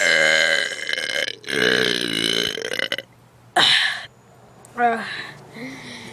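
Several long, loud burps follow one another, the first stretching over a few seconds, with shorter gurgling belches after brief pauses.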